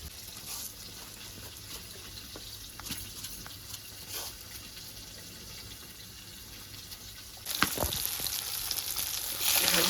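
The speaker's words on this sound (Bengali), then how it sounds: "লাল লাল করে তো ভাজাটা হয়ে গেছে।" Pieces of pona (rohu) fish frying in oil in a pan give off a faint, steady sizzle and hiss throughout, growing a little louder and brighter toward the end, with no voices.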